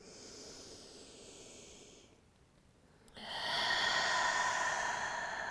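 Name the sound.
exhaling through the mouth during yoga breathing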